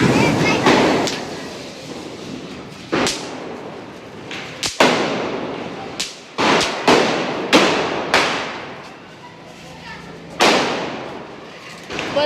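Firecrackers burst during Diwali celebrations, with roughly a dozen sharp, loud cracks at irregular intervals, some close and some further off, each trailing into a short echo, with people talking between the blasts.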